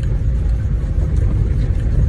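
A car driving on the way to school, a loud steady low engine rumble and road noise filling the cabin without a break, heard close from inside.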